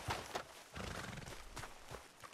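A horse in Red Dead Redemption 2, during an obstacle-jumping challenge, whinnies and snorts with hoof clip-clops, fairly quiet and close, with short bursts of breathy neighing over the steps.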